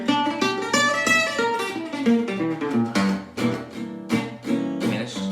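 Gypsy jazz guitar plays a minor 6 arpeggio climbing and returning across three octaves, a steady run of bright, ringing plucked notes close up with no voice.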